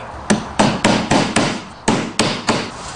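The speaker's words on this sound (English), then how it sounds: "I've just put that piece of wood under there to give this a bit of support when I'm hammering the nails in." Hammer blows driving nails into a simple wooden stool resting on a table with a wood block beneath for support: eight sharp, loud, ringing strikes in an uneven rhythm, each decaying briefly, no talking.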